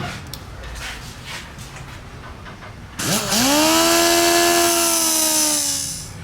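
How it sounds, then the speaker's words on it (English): A die grinder cuts around a dirt bike engine housing. The whir starts at moderate level, then the tool bites into the metal with a loud, sustained high-pitched screech that slowly drops in pitch as it cuts, close by. "we're going to take our die grinder and we're going to cut very carefully all the way around this thing"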